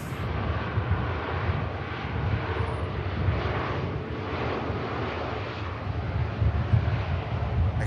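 Aer Lingus ATR turboprop rolling out at Manchester Airport on a Manchester to Dublin service, a steady broadband engine rumble with low propeller throb holding at moderate level throughout, no talk.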